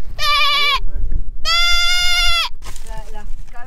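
Goats bleating on Fuerteventura: two loud, near, drawn-out bleats followed by a shorter fainter one, with people talking in between.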